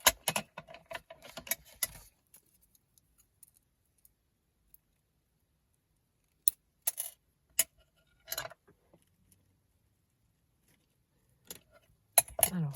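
Small beads for a paper junk journal embellishment are handled and cut, giving sparse, faint clicks and rattles, with a busy cluster at the start and scattered bursts later amid near silence.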